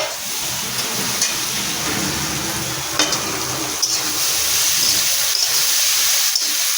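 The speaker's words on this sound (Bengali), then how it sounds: "ভালো করে বেগুনটা দিলাম তেলের সঙ্গে, পেঁয়াজ আর রসুনের সঙ্গে ভালো করে ভেজে নেব সুন্দর করে" Eggplant with onion and garlic fries in hot oil, a steady close sizzle broken by occasional scrapes and clinks as the pan is stirred.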